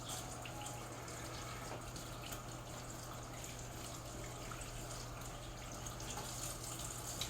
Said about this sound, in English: I'm going to go ahead and get these thighs rinsed